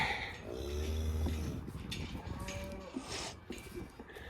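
Several cows lowing close by on a farm, a long deep moo followed by further shorter bellows and snorts among the livestock, with no talk over them.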